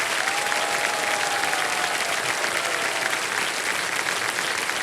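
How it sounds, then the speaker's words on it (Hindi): A studio audience on a television quiz show claps for a contestant who has just won five lakh rupees, loud, dense, continuous applause that holds steady throughout. "तालियां बजती रहे इनके लिए।"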